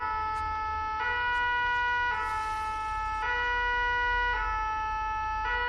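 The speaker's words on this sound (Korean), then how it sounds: "잠을 청하던 도중 사이렌 소리가 들리게 되고" A wailing emergency siren cycles steadily with rising and falling harmonic tones, fairly loud and continuous, with faint traffic rumble underneath.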